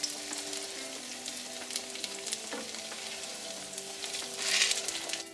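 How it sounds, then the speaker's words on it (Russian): Grated-potato pancakes (draniki) sizzle steadily in a hot frying pan, with occasional scrapes and taps as two spatulas flip them, and a brief louder hiss near the end. "Драники наши с одной стороны поджарились двумя лопатками. Берем и переворачиваем их на другую сторону."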